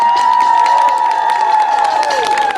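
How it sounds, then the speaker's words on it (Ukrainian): An outdoor crowd at the Ivan Kupala festival in Khmelnytskyi, 2016, claps and cheers loudly and continuously, with a sustained tonal sound ringing through the clapping for the whole stretch. "чоловікам, будь ласка, з дуже гарними оплесками"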